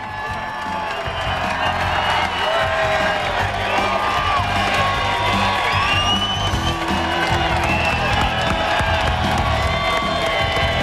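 Thousands of fans line the Detroit River shore cheering at an unlimited hydroplane race, a dense, sustained roar of crowd voices with whoops and scattered clapping, loud and continuous throughout.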